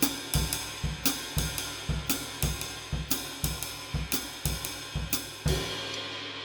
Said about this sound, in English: if I'm just using the bass drum, it would sound like this